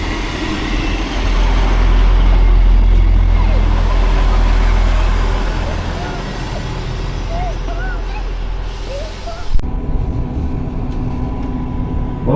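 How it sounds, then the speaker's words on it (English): A Northern train to Sheffield rumbles along with a steady low drone that swells then fades, with faint chatter and a brief knock before a quieter cabin hum. "Welcome on board this Northern Train to"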